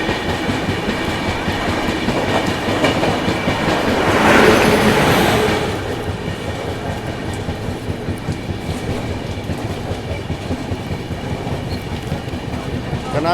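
A Mahakaushal Superfast train running on rails in India, heard as a steady, loud rolling rumble with rhythmic wheel clatter throughout and a brief swell of rushing noise partway through.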